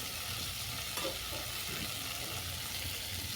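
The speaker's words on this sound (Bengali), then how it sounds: "ধনে মুড়ির সঙ্গে কাঁকড়াটা ভালো করে কষানো হয়ে গেছে" Crab cooked down with coriander and puffed rice sizzles and fries steadily in a pan, a spatula stirring and scraping through it with soft clatters, close and continuous without talk.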